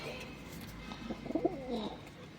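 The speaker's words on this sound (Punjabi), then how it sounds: "ਇਹ ਬਸ ਕਬੂਤਰ ਹੈਗੇ" Pigeons coo softly at a rooftop loft being moved into a new coop, a few low rolling calls over faint background noise.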